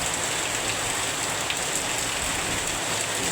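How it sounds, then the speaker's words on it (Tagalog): Steady, dense rain pours down continuously, a loud hissing wash of drops on a surface with no pauses. "kusog ang ulan"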